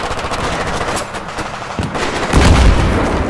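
Rapid, dense gunfire from the Battlefield 3 video game, with bursts of automatic weapons fire and heavier booms, loud and continuous throughout.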